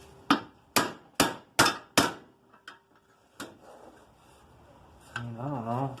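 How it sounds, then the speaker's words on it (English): A ball peen hammer strikes metal on a workbench in five loud, close blows at an even pace, then two fainter taps and one more hit, followed by a brief murmuring voice. "Or should I just bash on it like with a ball peen?"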